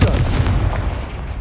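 A booming Confringo spell blast from Hogwarts Legacy, loud and close, with a heavy low rumble that decays over about a second.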